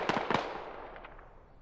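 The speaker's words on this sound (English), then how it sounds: "Was that a frag he threw?" Frag grenade explosion in Squad, two sharp blasts in quick succession followed by a fading rumbling echo and faint crackling debris, no talking.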